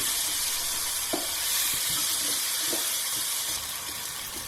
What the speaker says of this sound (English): It's time now for our chopped onions to go in, and we're going to saute that nicely with those spices